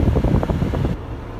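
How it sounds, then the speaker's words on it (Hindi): Air conditioning blows steadily inside a Daihatsu Move Canbus car with the engine running, a close, broadband whoosh with a low rumble that drops slightly in level partway through, with no talking. "और एसी वगैरह भी माशाल्लाह वर्किंग कंडीशन के अंदर है"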